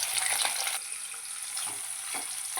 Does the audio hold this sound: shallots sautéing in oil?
yes